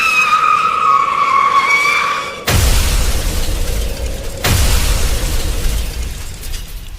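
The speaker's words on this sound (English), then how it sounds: "suddenly the sound, the crash, the silence." A car's tyres screech in a long skid before two heavy, loud crash impacts follow, each a broad burst of crunching noise with rumbling debris trailing off; no voices.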